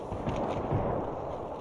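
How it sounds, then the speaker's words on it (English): Distant gunfire rumbles in an Apex Legends match, a muffled, continuous low crackle of shots over a short stretch with no clear individual bursts. "They're still getting shot at."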